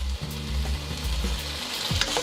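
Chicken pieces sizzle and fry steadily in an oiled pan for chow mein, with a close, continuous crackle and a few stirring scrapes.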